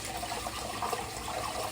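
Water runs steadily from a kitchen tap while rice is rinsed and drained, a close, continuous rushing splash with no voices.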